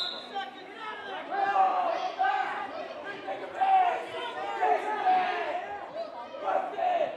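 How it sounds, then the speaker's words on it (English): Crowd noise at a junior high boys wrestling match in Northwood, with a steady chatter and raised voices that swell in waves across the gym, while people talk throughout. "Crowd's getting fired up right there at the end."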